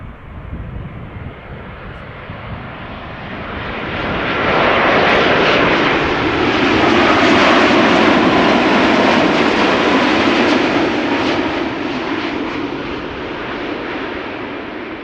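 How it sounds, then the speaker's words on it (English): A KLM Boeing 787-10 Dreamliner airliner, registration PH-BKH and four years old, arrives at Schiphol Airport from Panama City. Its broad engine roar builds from a moderate rumble to a loud, sustained peak as it passes, then eases slowly, with no voices. "This is KLM flight 758 arriving from Panama City, 787-10 Dreamliner, the PH BKH."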